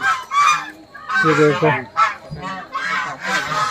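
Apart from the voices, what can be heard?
ducks honking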